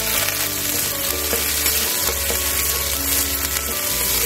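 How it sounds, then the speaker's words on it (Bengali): Ginger paste fries in hot oil, making a loud, dense, continuous sizzle with a steady low hum beneath it and no speech. "আদাটা ভালো করে ভেজে নেবো"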